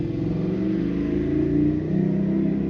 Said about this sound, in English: you hear that motorcycle, dude?